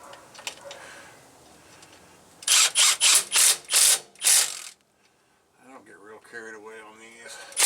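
A 1/2-inch drive impact gun tightens transmission bolts, firing five loud, rapid rattling bursts in a row, with someone talking in quieter stretches before and after.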